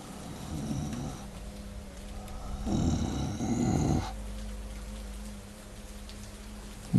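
Rain falling outside, a steady soft patter with a couple of louder, denser bursts in between, heard alone without talk.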